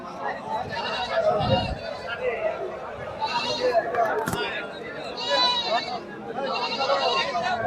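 A female goat bleats several times at a busy livestock market, its cries rising over constant crowd chatter and close conversation between people.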